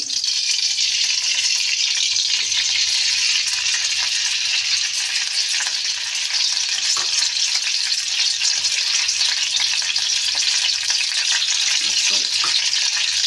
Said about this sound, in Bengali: এই যে কড়াইতে তেল দিয়ে দিচ্ছি।